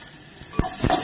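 Onions sautéing in a pan for stuffed chilli bajji, a steady close sizzle with a couple of sharp scrape or stir clicks partway through.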